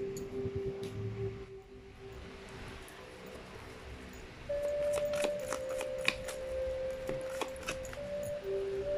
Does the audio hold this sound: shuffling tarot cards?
yes